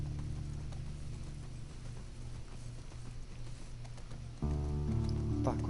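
Horse hooves clip-clop steadily at a walking pace in The Last of Us Part 2, set against game ambience and a low droning background, with the sound growing louder and fuller near the end.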